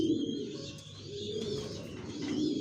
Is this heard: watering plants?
no